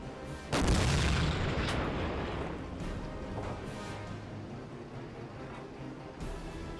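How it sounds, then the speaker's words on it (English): Submarine deck gun on the USS Perch in Silent Hunter 4 firing armour-piercing rounds: one heavy, booming blast with a long rumbling decay, followed by fainter distant thuds over steady engine and sea noise. "man the deck gun"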